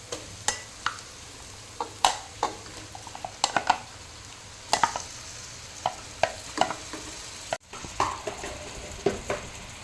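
Marinated chicken for biryani frying in a pot with ginger-garlic paste and green chillies, heard as a steady sizzle broken by repeated scraping stirs and clinks of a spoon against the pot.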